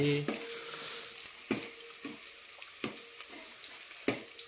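Onion frying in a pan for crab curry gives a soft, continuous sizzle, with a few sharp spoon scrapes and knocks against the pan at irregular intervals and no talking.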